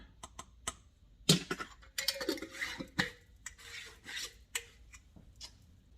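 A teaspoon scoops turmeric and taps it into glass jars, making a series of light scrapes, clinks and taps at an irregular pace, close and fairly quiet, with no talk.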